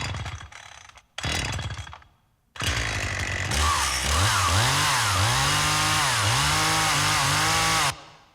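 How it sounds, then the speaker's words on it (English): A large rented 20-inch chainsaw sputters through a couple of short pulls, then roars to life and revs up and down in repeated surges before cutting off abruptly. "rented the biggest chainsaw they had, and it was like a 20-inch"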